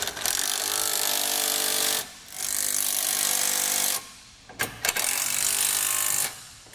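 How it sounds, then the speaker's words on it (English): A ratchet wrench or power tool tightens mounting hardware on a steel ATV winch mount, buzzing in three sustained bursts with short pauses and a few clicks between, loud and close. "Now we can go ahead and tighten down all of our hardware."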